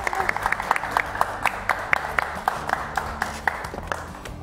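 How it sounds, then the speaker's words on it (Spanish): Studio audience clapping on a TV morning show, a sparse, uneven patter of individual claps with distinct sharp hits over a low background murmur, fairly close and moderately loud. "Un aplauso para Jimé."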